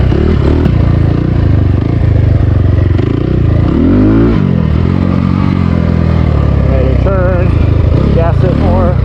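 A small SSR 300 pit bike engine buzzes loudly and continuously, rising and falling as the throttle is opened through corners, with a rider's voice talking over it.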